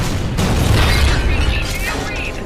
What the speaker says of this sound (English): Cooper, the injector backblast has overloaded my critical internal systems